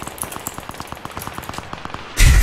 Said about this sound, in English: Just shred with the drum gun